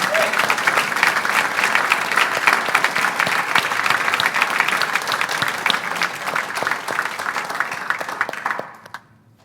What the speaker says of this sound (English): let's welcome them with applause as they do this